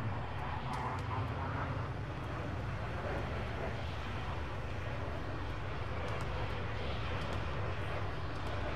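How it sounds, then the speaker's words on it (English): A jet aircraft flies overhead in the military game Arma 3, making a continuous dense roar that fills the whole stretch without a break or any fading. "it just sounds like there's a jet overhead."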